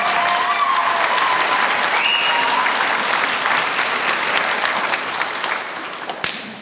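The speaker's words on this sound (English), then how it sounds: "I guess I should have paused to let you clap, so thank you" A graduation audience at a regional school's commencement claps steadily, a dense wash of applause that stays loud and even for several seconds before tapering slightly at the end.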